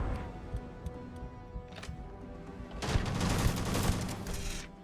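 Video game gunfire arrives as scattered single shots, then a sustained rapid burst of automatic fire, loud and close over faint background ticking.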